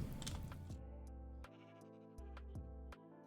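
A sheep bleating in a Minecraft Create mod shear farm, several short game bleats over a steady mechanical machine hum that cuts in and out.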